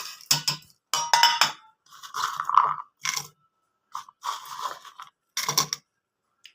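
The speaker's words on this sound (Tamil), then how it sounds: "இது எல்லாம் ஜாரில் போட்டு நம்ம அரைச்சிட்டு வந்துடலாம்" Kitchen mixer grinder pulsing a jar of garlic, ginger, cloves, fennel seeds and cardamom, heard as short loud whirring, rattling bursts separated by brief silences.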